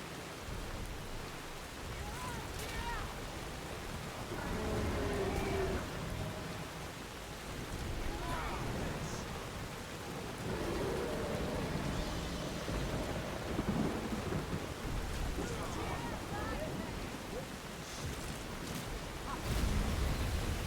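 A thunderstorm in the video game Skyrim, with heavy rain hissing steadily and deep thunder rolling and rumbling in repeated waves throughout, loud and close.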